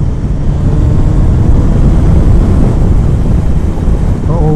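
A Kawasaki Ninja ZX9R motorcycle with an unbaffled exhaust idles and burbles in a low, continuous rumble, fairly loud and close, with a brief voice near the end.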